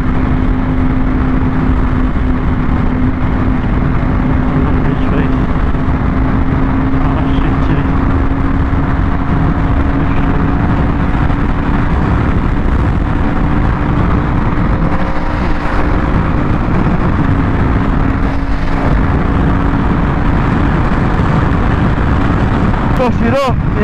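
Motorcycle riding along a road, a steady loud engine drone with a sustained tone and wind rumble running the whole time, with a rider's voice faintly under it.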